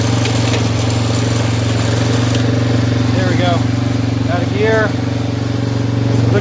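A rebuilt Yamaha Warrior ATV engine with a rebuilt carburetor idles steadily and close by, its low droning hum holding a constant level throughout, with someone briefly talking over it.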